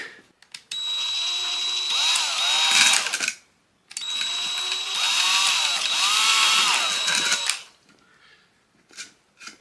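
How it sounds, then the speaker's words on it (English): A power drill whines steadily as it bores into a plastic model of an arcade cabinet. It runs in two long, close passes with a brief stop between, followed by a few faint knocks. "I'm not going to chip these things off during the drilling"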